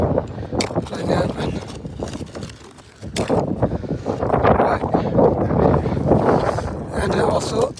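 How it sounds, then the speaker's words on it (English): Strong wind roars through a freezing overnight snowstorm, a continuous loud gusting rush with buffeting on the microphone, rising and falling, while someone talks over it throughout. "super strong wind, windy and super cold"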